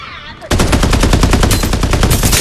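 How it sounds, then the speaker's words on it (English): Rapid automatic gunfire in the Farlight 84 video game, a loud sustained burst of evenly spaced shots starting abruptly after a brief quieter moment and continuing steadily to the end. "Firing will commence shortly!"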